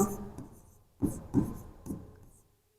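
Chalk or marker scratching on a board during a physics lecture, three or four short scraping strokes at close range in a quiet room, with no talk over them.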